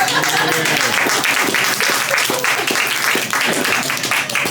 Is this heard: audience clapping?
yes